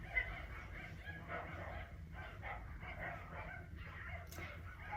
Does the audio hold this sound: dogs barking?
yes